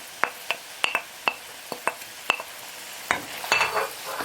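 Onions sautéing in a pan for an eggplant moussaka, repeated sharp spatula taps and scrapes over a low sizzle, ending in a louder burst of frying.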